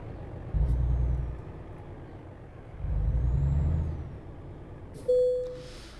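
A truck in Euro Truck Simulator 2 rolls slowly and carefully, its engine swelling in two low rumbling surges before an air brake hisses sharply near the end.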